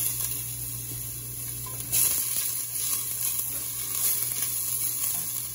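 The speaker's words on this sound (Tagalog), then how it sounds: "Hayaan natin mag-brown yung luya." Ginger sautéing in a small amount of hot oil gives a steady, soft sizzle with faint crackles and a brief louder burst as it is stirred.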